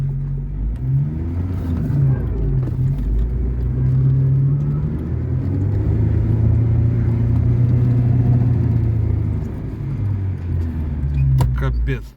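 A car engine labours uphill on a snowy road, a steady close rumble that swells and strains as it revs throughout, with muffled voices faintly underneath.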